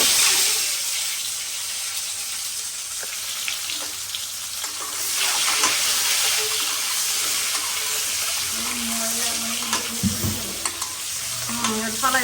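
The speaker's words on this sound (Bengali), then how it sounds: "তো এইখানে হলো আমি ডিমটা একটু ভাজা নেব" An egg fries in hot oil in a home kitchen pan, a steady bright sizzle with scraping stirs and a clatter of utensils, no talking over it.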